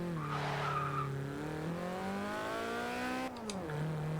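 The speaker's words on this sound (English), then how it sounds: "They got the back wheels to spin for 128 horsepower." A Toyota AE86 with 128 horsepower, built for drifting in Forza Horizon 2, spins its rear wheels with a sustained engine drone that climbs in pitch, briefly dips, then settles, steady and fairly loud throughout.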